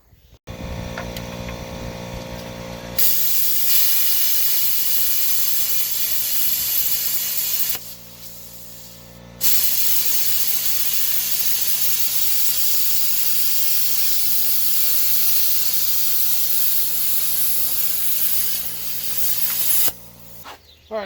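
Plasma cutter slicing a C notch into a 1963–1972 Chevy GMC truck frame, a loud continuous close-up hiss that cuts out briefly midway, then resumes before stopping.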